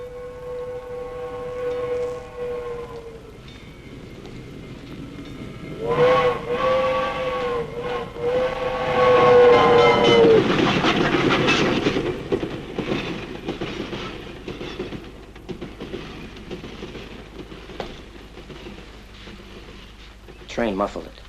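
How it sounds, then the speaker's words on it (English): Steam train passing close by in a 1950s crime drama scene, its whistle blowing in long sustained blasts near the start and again mid-way, followed by a loud rumbling, clattering roar of the cars rolling past that slowly fades under faint background voices. "Train muffled it."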